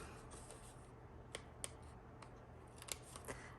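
A few crisp snips from small scissors cutting paper for a scrapbook layout, quiet isolated clicks over a low steady background hum.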